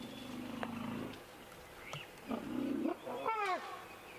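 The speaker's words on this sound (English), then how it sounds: "Now that sounds like a younger elephant throwing a tantrum because mom won't let it suckle." A young elephant throwing a tantrum in the wild on a sunrise safari, with moderately distant rumbling growls and rising squeals and trumpet-like calls in uneven bursts.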